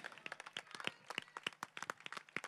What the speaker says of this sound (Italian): un applauso alla bellezza!